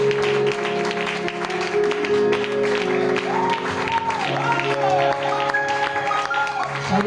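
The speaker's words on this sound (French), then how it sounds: "Acclamons pour frère Daniel." Church congregation applauding during an evangelism campaign service: sustained crowd clapping with music playing underneath, steady and fairly loud from start to finish.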